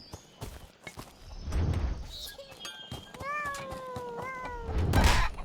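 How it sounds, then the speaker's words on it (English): A cat meowing nearby, a few drawn-out meows in quick succession, heard over muffled thumps and background noise. "Oh, that's a cat."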